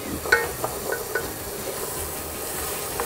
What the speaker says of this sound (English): while you're sauteing your onions.